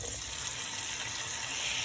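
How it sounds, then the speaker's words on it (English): Tomatoes dropped into a pan of garlic for a pasta sauce set off a steady hissing sizzle, close and even throughout the brief moment, with no voices. "now it is time to add our tomatoes"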